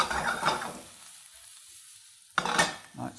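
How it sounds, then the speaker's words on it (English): Shallots or onions fry in a hot pan with a bright, crackling sizzle and bursts of stirring; the hiss eases off briefly, then swells again, with no talking. "get your pan nice and hot, start off with, and start cooking your shallots or onions"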